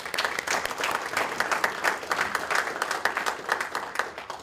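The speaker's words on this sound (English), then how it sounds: "I want to give you guys another round of applause." An audience at a graduation ceremony gives a sustained round of applause, dense clapping holding steady at moderate loudness for several seconds with no talk.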